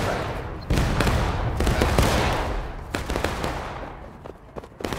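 Muskets fire in volleys in the Civil War video game War of Rights, with loud overlapping cracks and rumbling echoes that fade, followed by a few scattered later shots.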